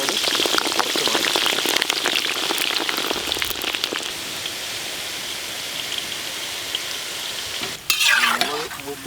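A green chili sizzles in leftover chicken-frying oil in a wok, a loud, steady crackle with stirring scrapes, easing slightly before a sharper burst near the end.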